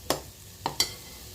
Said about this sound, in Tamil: தக்காளி சேர்த்துட்டு ஒரு நிமிஷத்துக்கு அப்படியே பெரட்டி விட்டால் போதும்.